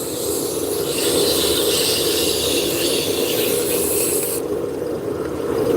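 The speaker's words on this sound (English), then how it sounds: "We're going to sand it out. Start with the medium grit." Medium-grit sandpaper rubs against a wood turning spinning on a lathe, making a steady, close, continuous rasping hiss that shifts in tone partway through and then carries on without pause.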